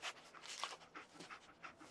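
Dogmeat, the dog companion in Fallout 4, pants in quick, rhythmic breaths. The panting is close and fairly soft, with no voices.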